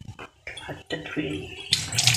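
Hands being rinsed under a running tap in a kitchen, with short splashing bursts of water, the flow growing louder toward the end.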